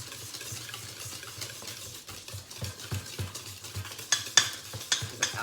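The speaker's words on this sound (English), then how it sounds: "You're really going to whisk it together" Eclair filling ingredients are whisked together in a bowl, a soft, steady rhythmic stirring and slapping heard close up and alone, growing a little livelier toward the end with a few light metallic clinks.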